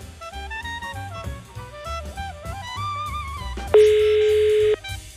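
A steady telephone dial tone sounds for about a second on a call placed during a Dutch TV talent show, cutting in loudly after music and crowd noise.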